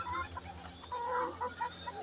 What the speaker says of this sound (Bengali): এগুলো আমার দেশি মুরগি